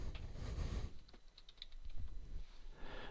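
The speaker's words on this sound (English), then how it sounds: "Then type a name." A name being typed on a computer keyboard, a short run of close, crisp key clicks at an uneven pace over a faint background murmur, with no talking.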